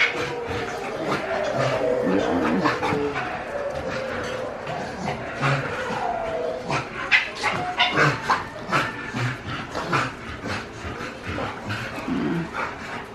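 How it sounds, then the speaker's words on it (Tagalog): Several dogs kept in the back whine and whimper, with occasional short yips and barks, the high cries overlapping at moderate distance over a steady background hum. "Umiiyak na yung mga aso sa likod."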